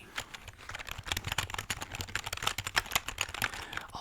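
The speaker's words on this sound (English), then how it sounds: "I personally prefer the sound of like a mechanical keyboard" Quick, quiet, steady typing on a mechanical computer keyboard, a dense run of crisp key clicks and taps close up with no speech.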